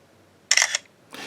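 A BlackBerry Priv phone camera fires its shutter once, a short bright synthetic click-whir burst close to the mic, followed by a fainter second sound near the end.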